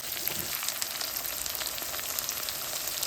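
Shallots and garlic sautéing in a pan for Sri Lankan fish curry with mango, a steady, close crackling sizzle with light popping that runs evenly throughout with no voices.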